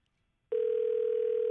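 A steady ringback tone on an outgoing telephone call starts after half a second of quiet and holds continuously, clear and fairly loud, with no voices.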